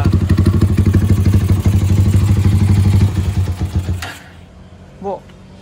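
A GL 300cc motorcycle with a 75 mm piston idles close by in a loud, steady, rapid chug for about four seconds, then cuts off, leaving quiet room noise and a brief faint sound near the end.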